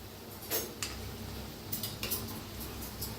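Shankarpali, diamond-shaped maida dough pieces, deep-frying in hot oil in a kadhai, with a soft continuous bubbling hiss and a few sharp metallic clinks of a spoon turning them.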